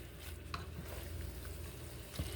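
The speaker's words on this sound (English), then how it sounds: "Just a little oil that I put to saute the onions." Onions sauté in a little oil in a pan for spaghetti with Italian sausage, making a faint, steady sizzle broken by a couple of soft stirring or utensil taps, with no talk.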